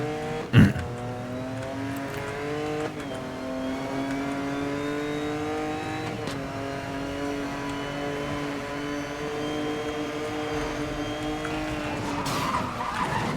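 A Lexus LFA in Need for Speed: Most Wanted (2012) squeals its tires in a long skid after a sharp thud, its engine holding a steady high whine and rising at the end as it accelerates away, with no talking.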